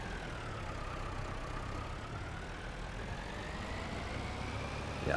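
A farm tractor engine in Farming Simulator 22 drones steadily under heavy load, its pitch slowly rising as the revs climb, a continuous even rumble with no talk over it.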